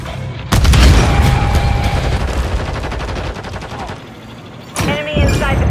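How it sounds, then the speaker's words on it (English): Grenade blast and rattling gunfire in a World War III battle game, a loud broadband burst that rolls on for several seconds, then a second sharp volley, with brief voice callouts mixed in. "Grenade, get back!"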